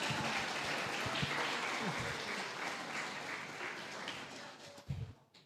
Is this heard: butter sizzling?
no